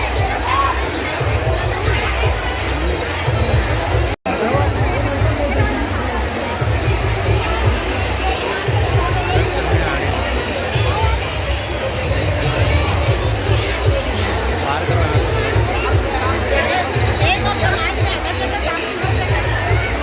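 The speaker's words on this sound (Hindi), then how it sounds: "भीड़ है, कलश का भीड़ है।" A dense crowd at a Hindu kalash yatra procession for a Shiv Mahapuran gathering fills the air with constant loud chatter and shouting, a continuous babble with no letup.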